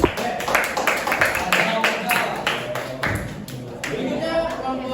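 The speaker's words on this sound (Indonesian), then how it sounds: "Beri tepuk tangan buat kelompok." A classroom group gets a round of applause, a short burst of scattered, uneven clapping from a small audience, with voices talking over and around it.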